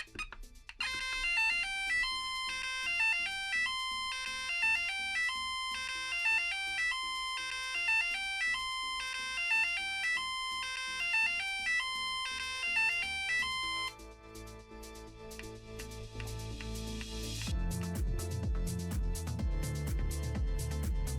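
Two special end tunes from a Grandstand Astro Wars handheld video game: a bright, beeping electronic melody with a repeating rhythm, then a lower, buzzier sequence of tones, clear and fairly quiet with no talk.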